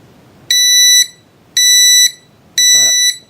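Scythe Kaze Master Flat fan controller sounding its fan stall alarm: three loud, steady electronic beeps of about half a second each, evenly spaced, with quiet gaps between.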